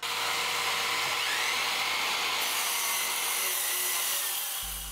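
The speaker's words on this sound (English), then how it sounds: "I'm going to use the miter saw for this" A miter saw cutting wood to length for a boot jack, a steady high whining buzz of blade through timber lasting throughout, loud and close, with a low thump near the end.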